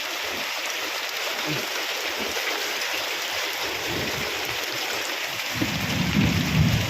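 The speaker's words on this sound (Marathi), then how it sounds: "आमच्याकडे आज गारांचा पाऊस राहिला बघू शकता इथं तुम्ही" Heavy rain and hail pour in a dense, steady hiss during a hailstorm, with a low rumble of thunder swelling near the end.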